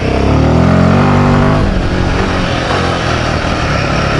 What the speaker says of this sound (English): when you open the throttle up, it wants to go